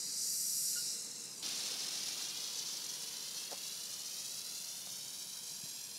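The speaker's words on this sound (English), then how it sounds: "Let's go ahead and open up the fire hydrant." Water spraying from an opened fire hydrant outdoors, a steady loud hissing rush that runs continuously, with a brief brighter surge at the start before settling into a constant spray.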